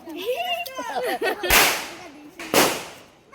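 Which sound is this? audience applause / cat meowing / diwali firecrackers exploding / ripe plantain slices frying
diwali firecrackers exploding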